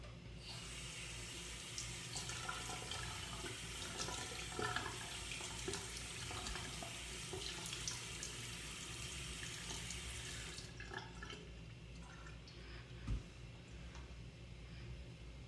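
Tap water running steadily into a bathroom sink to wet the face, a continuous hissing splash that stops abruptly near the end, followed by quieter room tone with a small knock.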